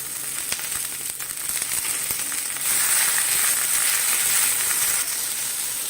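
Ginger, a handful of coriander and a small piece of tamarind sauté in a pan, giving a steady close sizzle and frying hiss that swells after a few seconds, with occasional stirring clicks and no talk.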